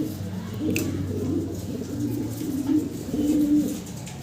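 Soft, low cooing from fancy pigeons repeats in gentle rolling phrases, close by, with faint background noise and no talking.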